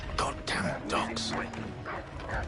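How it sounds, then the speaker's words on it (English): Dogs bark and yip in the Assassin's Creed video game, several sharp close barks mixed with whimpers, heard alongside game voices talking. "Goddamn dogs."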